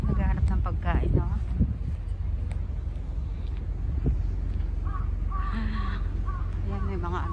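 Crows caw several times in a park by a harbor in Kobe, a few sharp calls early then more distant ones, over wind and background murmur, with a person speaking nearby.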